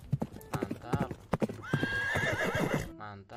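Zebra hooves gallop in a rapid, steady clip-clop rhythm in a Jurassic World Evolution 2 game scene, close and distinct, ending with a whinny-like call.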